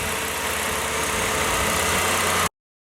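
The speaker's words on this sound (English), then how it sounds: "And now we're going to start the vehicle." A car engine idles steadily and close by after a cracked fuel line was repaired by brazing, a constant mid-pitched running hum that holds for about two and a half seconds and then cuts off abruptly.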